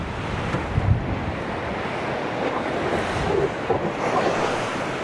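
Storm waves surge ashore in Marsascala, Malta, a continuous loud roar of surf and rushing water with heavy wind buffeting the microphone throughout.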